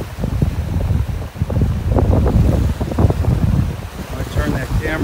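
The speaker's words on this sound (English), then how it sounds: "It's so darn windy." Strong gusting wind buffets the microphone in loud, uneven bursts on a beach in North Naples, Florida, with surf rumbling underneath.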